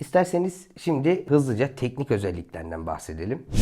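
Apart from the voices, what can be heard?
None of the usual background noises is heard.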